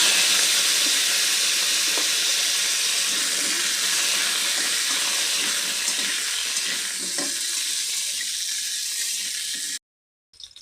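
Potatoes frying in hot oil in a pan for a pumpkin-greens dish, a steady, close, loud sizzle with faint stirring clicks that cuts off abruptly near the end.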